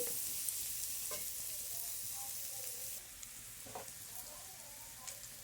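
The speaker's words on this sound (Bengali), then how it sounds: "প্রথমে তেল দিয়েছি, তাতে পেঁয়াজ কুচোনো, রসুন কুচোনো দিয়ে দিয়েছি, শুকনো লঙ্কা।" Chopped onion, garlic and dried red chili fry in oil in a pan, giving a steady soft sizzle with occasional faint stirring clinks, fairly quiet and with no talking over it.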